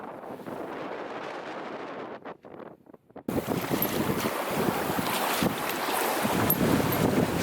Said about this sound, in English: This is how it is to sail in a fjord.